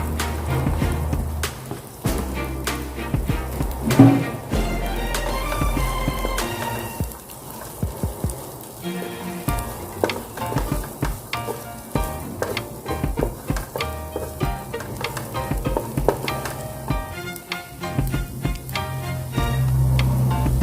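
Onion sizzles in hot oil in a pan, a steady crackle with stirring scrapes and ticks throughout, while bean sprouts and tofu are being sautéed.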